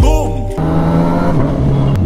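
Suzuki GSX S1000 motorcycle on a Sunday road ride, its exhaust note a sharp, steady harmonic drone close to the mic after a brief rising rev at the start, with steady engine and wind noise throughout.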